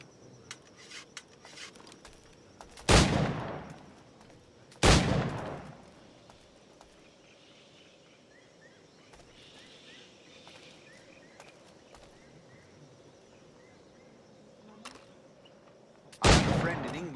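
Firearm shots in the video game Assassin's Creed IV Black Flag, three sharp loud reports spaced several seconds apart over a low ambient bed with faint footsteps and small sounds between.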